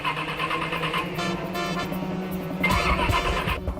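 A car engine is cranked in a garage, with a rapid mechanical chattering from the starter that comes in repeated bursts and pauses, fairly close and without talk.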